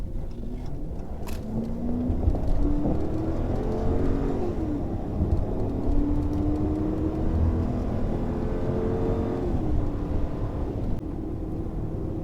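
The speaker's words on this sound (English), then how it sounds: "It easily accelerated up that on-ramp, which was up a grade" A 2016 Dodge Charger R/T accelerates up a graded freeway on-ramp, its steady engine drone rising in pitch through the gears over continuous road and wind noise, heard from inside the cabin.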